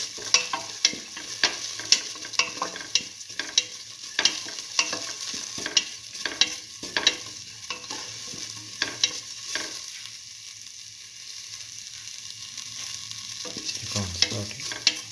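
Fennel seeds sautéed in a pan, stirred steadily, with a soft continuous sizzle broken by frequent sharp clinks and scrapes of a spoon against the pan, close and moderately loud, no talking.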